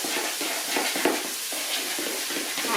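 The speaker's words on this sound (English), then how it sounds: "Kind of stirring that up until our skillet gets hot" Cornbread batter of cornmeal, egg and buttermilk being stirred in a bowl, a steady scraping and swishing with soft regular strokes, close and alone, with a faint sizzle of a heating skillet behind.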